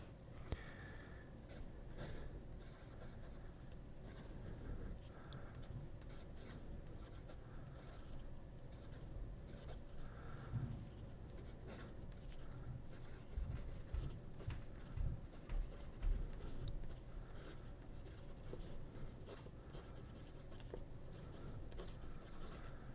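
A fountain pen with a JOWO nib writing on paper: faint, steady scratchy strokes continuing for many seconds, close up and quiet with no talking.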